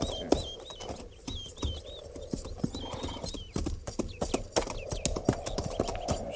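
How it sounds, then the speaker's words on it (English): Several cavalry horses clip-clop steadily along a creek bed, hooves close and overlapping, with an occasional whinny and faint birdsong behind them. "Not after we water the horses."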